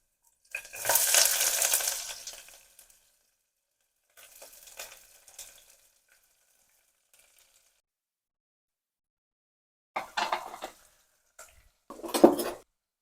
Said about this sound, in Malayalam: അപ്പോൾ നമുക്ക് ദേ ഇതിലേക്ക് സവോള കൂടി ഇട്ട് കൊടുക്കാം